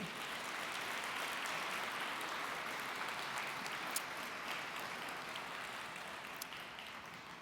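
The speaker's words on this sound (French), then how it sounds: "On peut les applaudir" Audience applause at the 2022 Soirée des Fellows, a soft, distant, even wash of clapping held at a steady level, with a couple of sharper claps standing out.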